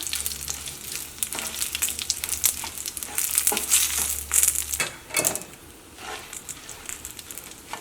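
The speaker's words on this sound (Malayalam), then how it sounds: "ഈ ഉണക്കമുളക് നന്നായിട്ട് മൊരിയണം കേട്ടോ." Dried red chillies fry over a low flame in a pan, crackling and sizzling continuously with sharp pops and stirring scrapes, close and fairly loud.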